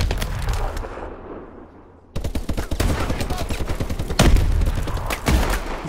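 Shotgun fire in the shooter game Call of Duty Advanced Warfare: loud repeated blasts in quick succession with game effects, a short fade into near silence, then more dense firing and booms, with someone speaking briefly.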